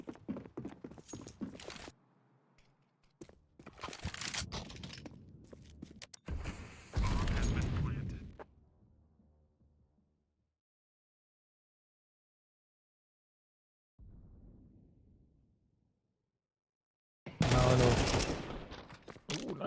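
Gunfire bursts in a Counter-Strike match at a Counter-Strike tournament, loud clustered volleys with brief pauses and a later single burst, mixed with commentators talking.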